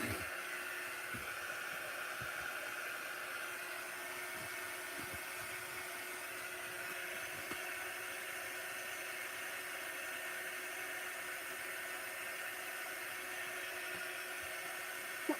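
A small heater blows warm air in a room, a steady, even whoosh of fan noise that holds constant throughout, close and moderately quiet with no talking.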